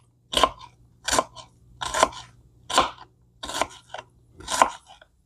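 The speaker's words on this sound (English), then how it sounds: "You can cut your onion as big or small as you want." A knife chops a red onion for an Italian spaghetti salad, giving six evenly spaced crunchy cuts about a second apart, close and fairly loud over a faint low hum.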